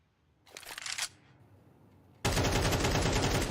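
A MAC-10 submachine gun in Counter-Strike fires a short rapid burst, then after a brief lull a dense, loud stretch of continuous gunfire mixed with other weapons begins.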